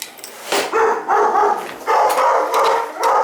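Several dogs bark indoors in a house, sharp barks and yips arriving in uneven bursts close to the listener, with no talk over them.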